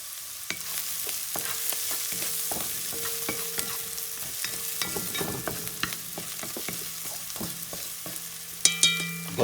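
Sausage frying in a pot for Puerto Rican-style sausage soup, seasoned with smoked paprika, is stirred with a utensil: a steady close sizzle broken by repeated scraping strokes and a few sharper clatters near the end, with no talking.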